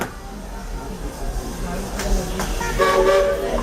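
A Walt Disney World Railroad train rumbles along with a low mechanical drone, then a bright toot sounds near the end, with a voice talking over the train.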